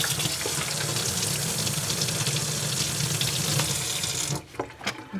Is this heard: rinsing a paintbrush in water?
yes